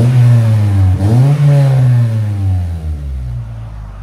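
A 1997 Honda Prelude 2.2L with aftermarket headers and a Skunk2 cat-back exhaust revs loudly up and back down, its deep exhaust note swelling and falling, then settling into a lower drone as it idles.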